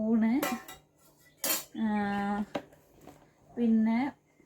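A spoon and plate handled while packing essentials for a hospital stay give close, bright clinks and short ringing tones in several separate bursts with quiet gaps between.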